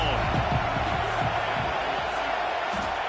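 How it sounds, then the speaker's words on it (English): Stadium crowd in College Football 26 roars in a constant dense wash around a kickoff touchback, loud and enveloping, with a commentator's voice running over it. "This crowd ready to make its presence known"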